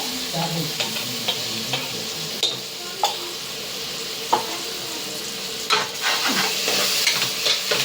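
Tomato frying with ginger garlic paste in a pan for mushroom biryani, a steady close sizzle with repeated sharp spoon scrapes and stirring clatters throughout, no talk.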